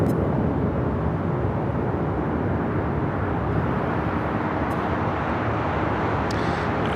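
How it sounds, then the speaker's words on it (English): An Air Canada Dreamliner taxiing at LAX, heard as a steady, wide jet rumble at moderate distance, continuous and even throughout with no voices. "So this Air Canada Dreamliner will be making a U-turn heading down to 25 right."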